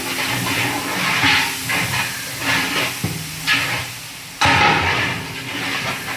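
Ginger garlic paste is sautéed in a large pot for beef biryani, a loud continuous hissing sizzle broken by several scraping stirs and sudden surges, close and alone without talk.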